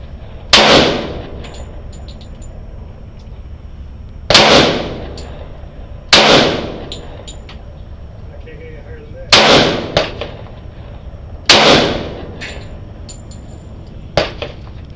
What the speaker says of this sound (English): We're gonna shoot it when it's close and personal.